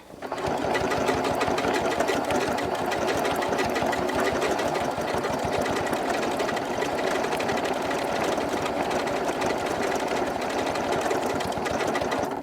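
A sewing machine stitches an appliqué design, running continuously at a fast, even needle rhythm for about twelve seconds. The mechanical whir is loud, close and uninterrupted.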